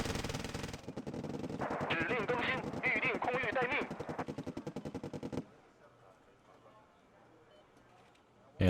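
Rapid automatic machine gun fire from a unit in the Cold War strategy game Wargame: Red Dragon, a loud sustained burst of closely spaced shots lasting several seconds before cutting off to quiet battlefield ambience.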